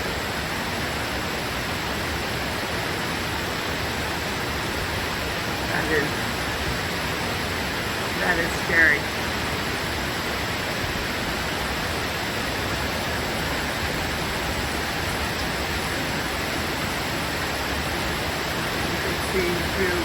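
Floodwater from a creek swollen by Hurricane Helene in Montreat rushes in a steady, loud broadband roar for the whole stretch, with a person briefly speaking over it near the middle.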